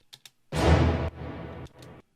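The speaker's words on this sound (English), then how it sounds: "I have just kind of like this string stab from Kashmir here." A short orchestral string stab sampled from the song Kashmir sounds twice, the first fuller and the second thinner, framed by a few faint ticks before and after.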